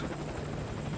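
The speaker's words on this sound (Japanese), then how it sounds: "角生えてるあのヘリ" A horned helicopter in the video game Metal Gear Solid V thrums with a steady rotor chop and low engine drone, loud and continuous for a moment, with no voices.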